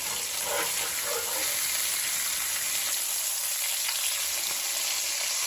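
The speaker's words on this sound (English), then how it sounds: "you want to make sure that your fish is completely cooked, almost fried in the oil before you take this out" Guyanese fish cakes fry in hot oil with a constant, dense sizzle and crackle that holds steady and close throughout, with no voices.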